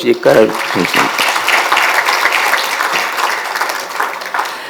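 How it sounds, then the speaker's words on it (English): Applause breaks out from an audience at a rail infrastructure panel, starting just after a brief bit of speech and continuing as a dense, steady clatter of clapping that slowly thins toward the end. "Really, sir, round of applause"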